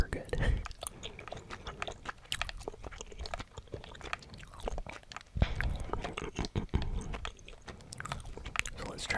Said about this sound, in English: I am chewing two delicious pieces of blue raspberry bubblegum